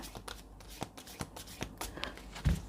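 Tarot cards are shuffled by hand in a series of quick riffling rustles and soft snaps at an uneven pace, close and quiet, ending in a louder tap.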